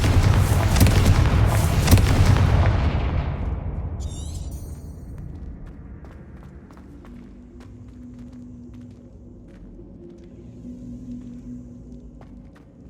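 A Confringo fire spell blasts in Hogwarts Legacy, a loud booming explosion that dominates the first few seconds, then decays into a low rumble with faint magical chimes and quiet ambient hum.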